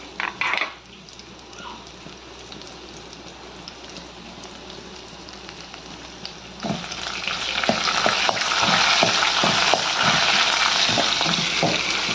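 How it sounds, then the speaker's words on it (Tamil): Small shallots and crushed garlic dropped into hot oil for tempering mutton soup, a quiet clatter first, then a loud bright sizzle that swells and keeps crackling steadily with occasional stirring scrapes, close up. "இப்போ நம்ம கொஞ்சம் சின்ன வெங்காயமும் பூண்டும் போட்டுக்கலாம் தாளிக்கிறதுக்கு."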